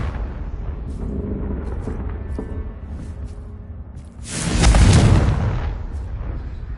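The Confringo blasting spell in Hogwarts Legacy goes off as a single loud, booming explosion with a roaring burst and fading rumble, rising out of a lower background din.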